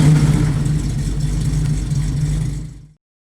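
Off-road truck engine runs with a steady rumbling exhaust note at moderate loudness, holding a constant tone for under three seconds before cutting off abruptly.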